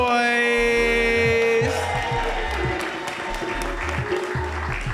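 A loud crowd at an Oakland crowning ceremony applauds and cheers, with a thumping music beat underneath and a held synth chord at the start.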